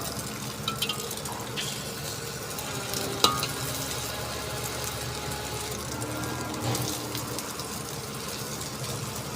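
Four eggs frying in a pan for breakfast give a steady, close sizzle and crackle throughout, with a brief utensil clack partway through.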